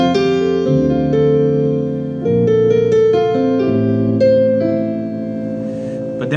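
Piano tone from a Casio PX-360 digital piano through its internal speakers, a sustained sequence of chords and melody notes played steadily and close, loud and alone without voices.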